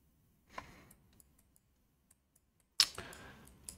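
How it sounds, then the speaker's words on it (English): Sharp computer mouse clicks while working in Maestro 3D dental software, one small click early on and then a louder cluster of clicks near the end, set against a quiet room. "After the segmentation is complete, We click here,"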